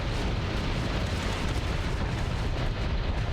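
Ion cannon fire striking a space station in the game Starsector, a dense continuous roar of rumbling blasts and crackle that stays loud and unbroken throughout, with no talk.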